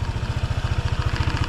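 Honda Click scooters, a white Click 125 and a red Click 150, idle close by with a steady, throbbing low putter and a fast even pulse that runs unbroken, with no talk.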